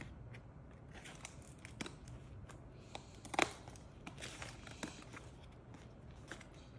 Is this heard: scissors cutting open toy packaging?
yes